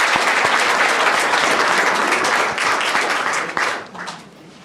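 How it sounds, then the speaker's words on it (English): Attendees at a school district board meeting applaud for a group of students, loud, dense clapping from many hands that thins and fades over the final second. "Round of applause."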